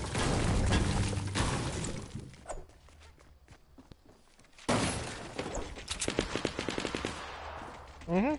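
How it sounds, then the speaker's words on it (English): Rapid automatic gunfire and scattered shots in the battle royale game Fortnite, loud and dense at the start, easing off in the middle, then returning in bursts with footsteps and game effects, and a voice talking faintly underneath. "Mm-hmm, you shoot my boy Crimson"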